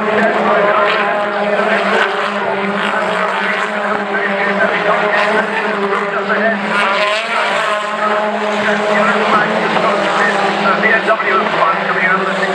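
BTCC touring race cars pushing through the chicane at Thruxton, a loud continuous engine howl with shifting, overlapping pitches from several cars, alongside commentary.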